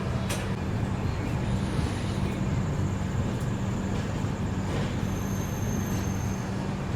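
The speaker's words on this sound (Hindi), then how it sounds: "बस ज़रा वीडियो शूट किया और लो ट्रेन निकल गई यहाँ से" The Chennai–Trivandrum AC Express pulls out of a station with a steady rolling rumble of wheels on track, plus brief squeals and clanks over the drone.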